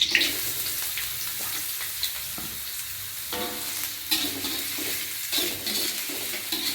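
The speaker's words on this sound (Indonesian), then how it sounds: "Karena ini udah panas, aku akan tuangin bawang merah sama bawang putih." Shallots and garlic hit hot oil for a stir-fry, producing a bright, continuous sizzle with occasional clinks and scrapes of a spatula stirring close by, and no voices.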